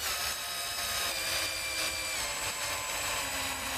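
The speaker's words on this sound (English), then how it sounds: "You can do it, drill." A cordless power drill driving a screw whirs steadily and close by, a continuous buzzing motor hum with no voices over it.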